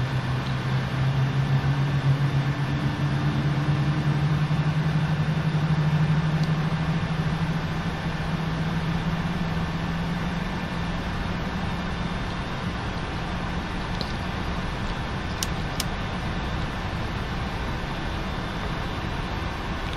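Four engines of a PMDG 747 freighter in a Prepar3D flight simulator stabilize after start, a steady droning hum with a low tone that slowly rises, constant and fairly loud with no talking.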